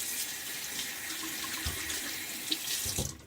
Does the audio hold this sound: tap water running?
yes